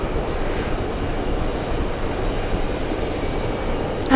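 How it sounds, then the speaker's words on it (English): A Boeing 747 arriving at JFK airport makes a broad, steady engine roar that stays loud and even throughout with no talking. "The unknown 747 is coming to JFK."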